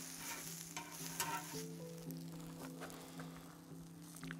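White onions frying on a Vulcanus grill, a steady close sizzle with stirring and scraping, a low hum running underneath, and no voices.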